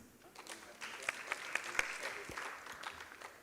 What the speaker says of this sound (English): Clap for the MCs.